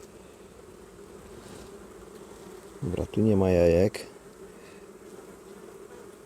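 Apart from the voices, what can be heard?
honeybees buzzing at an opened hive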